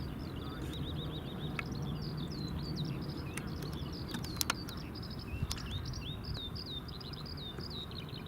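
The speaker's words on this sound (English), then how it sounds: "listen to that bird song" Birdsong outdoors near Glasgow Airport: repeated bright chirps and warbling phrases carry on throughout, moderately close, over a steady low background rumble with a few sharp clicks.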